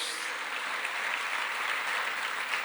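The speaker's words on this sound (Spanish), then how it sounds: "Fuertes aplausos a nuestro Dios." A church congregation applauds during a pastor's sermon, a uniform wash of many clapping hands sustained at steady loudness for the whole moment.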